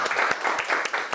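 A short burst of audience applause in a classroom-style talk session, dense and steady claps from a small group, loud and close, with no speech over it.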